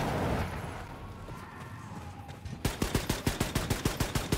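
Rapid automatic gunfire from the most powerful gun in Wolfenstein II, a burst of about fifteen sharp, evenly spaced shots that starts suddenly after a stretch of muffled game ambience.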